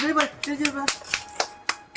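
Children clap their hands fast in a quick, even string of sharp claps, mixed with a voice speaking at the start.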